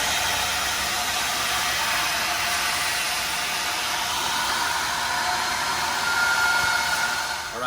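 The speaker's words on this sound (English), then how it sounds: "take your vacuum and you vac out all of the debris, the dust" Steady, loud whooshing roar of a vacuum sucking dust and debris out of repaired cracks in a concrete floor, running continuously and close with no talking.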